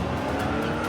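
A car burning rubber across a parking lot squeals its tires as it speeds off, a loud, continuous screech over engine noise, close by for the whole moment.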